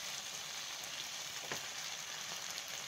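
Tomatoes cook in a pan for spinach chutney, filling the air with a dense, continuous close sizzle and fine crackle at an even level, with no talking.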